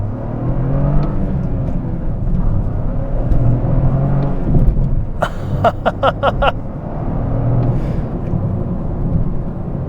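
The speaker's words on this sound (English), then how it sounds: "I love hearing the turbo." A 2023 Toyota GR Corolla hot hatch with a turbocharged engine and all-wheel drive is heard from inside while driving. Steady loud engine and road drone rises and falls, with a brief burst of rapid clicking ticks midway.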